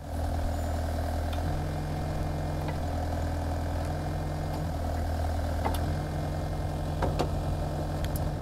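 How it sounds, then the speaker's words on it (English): A Geoprobe 3230DT drill machine engine runs steadily at close range, a constant mechanical drone with a low hum and occasional clanks and knocks, no voices. "I'll start the machine and just demonstrate the clamping of that"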